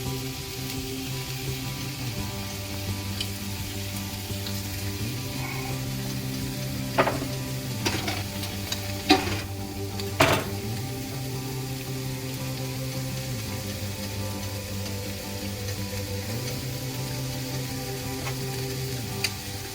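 Garlic fries in a pot with a steady, even sizzle throughout, broken by a few sharp clinks and taps near the middle, with no voices.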